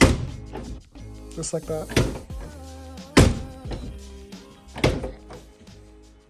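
A BMW E46 car door is opened and shut several times after repair, giving a few solid thunks and latch clicks spread through the clip, while someone speaks briefly between them.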